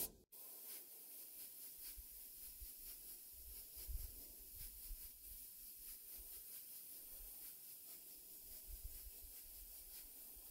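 Airbrush spraying thinned paint onto a Warmachine Cygnar Avenger warjack miniature, giving a continuous close airy hiss with faint fluctuations.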